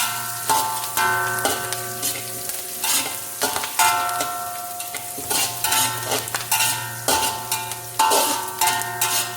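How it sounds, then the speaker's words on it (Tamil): Curry leaves sautéing in a hot pan for curry puff filling, a steady close sizzle broken by repeated scraping and stirring knocks of a utensil against the pan. "நல்லா வதக்கணும், கருப்பில் வாசனை வர வரைக்கும்"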